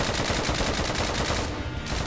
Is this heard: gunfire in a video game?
yes